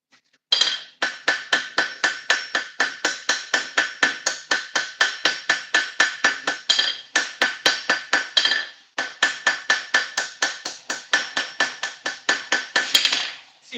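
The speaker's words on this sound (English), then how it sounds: "I'm hitting that really lightly to take the hammer marks out." Rapid, light metallic hammer taps on hot metal while finishing a tomahawk, a steady rhythm of dozens of bright ringing strikes with two brief pauses, close and clear.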